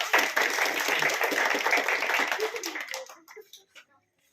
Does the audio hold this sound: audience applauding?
yes